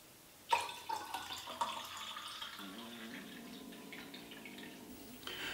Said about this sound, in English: It's pretty much like filling a glass with water.